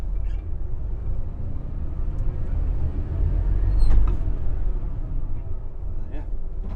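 Old bus with an unsynchronized four-speed Spicer transmission pulling away, a heavy low diesel rumble that swells briefly midway, with brief voices nearby.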